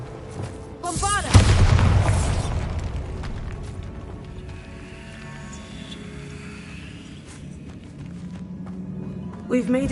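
A Bombarda explosion spell goes off inside a tomb in a video game: one deep, booming blast with a rumbling tail, then a quieter echoing ambience.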